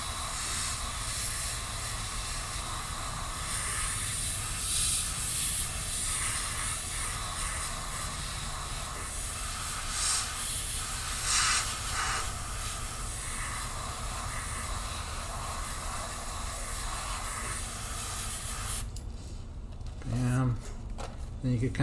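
A Sparmax airbrush sprays paint through a stencil with a steady, close hiss that runs nearly unbroken, then stops near the end, where a voice briefly speaks.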